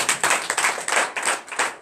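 Rhythmic clapping in bursts from a church congregation during a deliverance service, several quick waves of hand claps close by with no voices over them.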